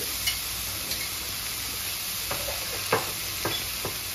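Cumin (shahi jeera) and whole spices such as cloves hit hot oil, a steady close sizzle with a few soft taps and clicks from the spoon or pan, with no talking.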